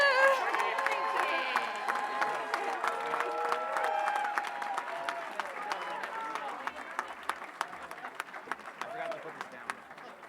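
Applause from a crowd at the 2023 Aspen Valley High School graduation, a steady wash of clapping over a voice that starts speaking and fades, with sharp individual claps standing out toward the end.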